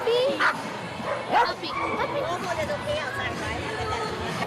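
A puppy at a community marketplace event giving small yips and whimpering barks close by, mixed with crowd chatter and people talking in a busy outdoor setting.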